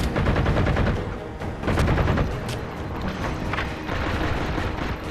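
Sustained assault rifle fire in the Halo 4 campaign battle, dense and continuous with overlapping bursts and booms of a busy firefight, loud throughout.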